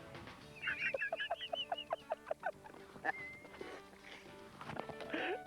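Wild turkeys call in a rapid series of clucking yelps, followed by a few scattered calls, heard at moderate distance over faint outdoor background noise.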